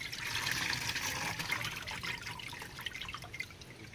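Water drains and trickles steadily from boiled macaroni poured off into a strainer in a home kitchen, a soft continuous splashing and dripping with no talking.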